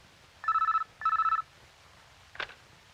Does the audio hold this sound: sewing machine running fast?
no